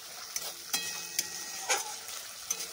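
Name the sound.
spice paste being stir-fried on low flame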